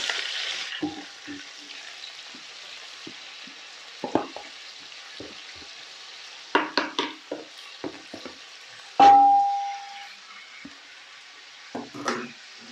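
Onions and tomatoes dropped into hot oil with fried ginger and garlic for a biryani, giving soft sizzling with scattered stirring clatters and one sharp clank partway through.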